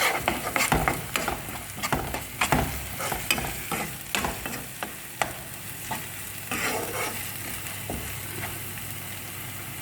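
Spices sizzling in a pan with browned fried onions, stirred briskly with repeated sharp scraping clicks of the utensil over a steady low frying hiss, close by.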